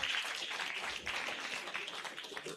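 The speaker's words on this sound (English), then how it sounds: "Can we make clap recognizing yourself? That should be the best and loudest applause." Audience clapping at a scientific conference opening ceremony, a steady, fairly soft spread of hands heard from a distance for a couple of seconds.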